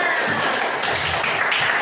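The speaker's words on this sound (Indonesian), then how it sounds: "tepuk tangan semuanya" Classroom of high school students applauding together in a dense, steady wash of clapping that fills the room, with faint voices mixed in.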